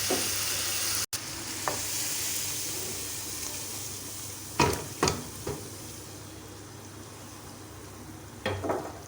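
Kadhi simmering in a wok with masala and fresh coriander stirred in, a steady sizzle and bubbling hiss throughout, with a few louder scraping stirs of the spoon against the pan.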